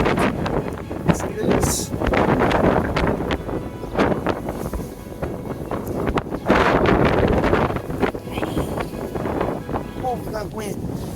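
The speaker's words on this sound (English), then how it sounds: "It is windy right now." Strong wind in a storm under a shelf cloud buffets the microphone in loud, continuous gusts outdoors on a street, with a voice speaking briefly.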